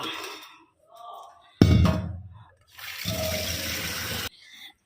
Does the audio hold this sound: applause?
no